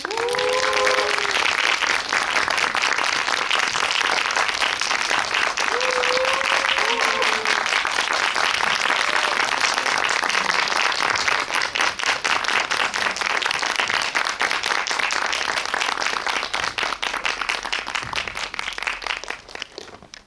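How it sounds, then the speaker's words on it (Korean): An audience at an indie cinema guest-visit screening applauds to welcome the film's director and actors, a dense, sustained wave of clapping that runs steadily for about twenty seconds before trailing off, with a few brief cheers. "기쁜 날이니까 크게 박수로 환영해 주시기 바라겠습니다."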